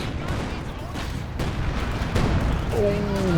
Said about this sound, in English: This barrage targeting the pack.